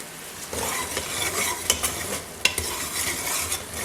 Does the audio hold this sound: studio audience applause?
no